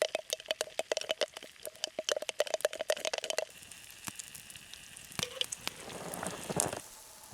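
Pancakes and bacon cook in a pan at a cold winter camp, a dense crackle of sharp pops and spits over steady sizzle, close and fairly loud, with a softer, hissing frying texture taking over partway through.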